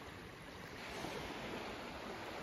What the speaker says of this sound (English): right where the water's breaking